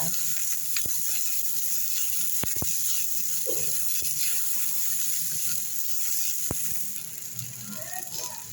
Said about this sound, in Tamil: கருவேப்பிலை போட்டுருங்க. பெருங்காயம் நல்லா வதக்கிடுங்க.